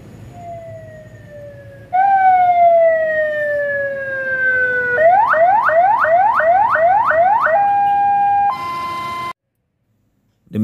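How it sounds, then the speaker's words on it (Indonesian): A Toyota Hiace Commuter ambulance siren is switched on and cycles through loud electronic tones close up: long rising wails, then a rapid series of short whoops, then steady tones before cutting off abruptly. "ini dia pengaturan sirine. Dapat kita aplikasikan seperti ini, kita hidupkan atau kita nyalakan."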